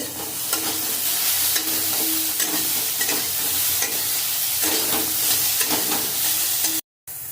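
Beans, eggplant and greens fry in mustard oil with salt and turmeric, stirred continuously. A loud, close, even sizzle runs through with soft scraping strokes, then cuts out briefly near the end.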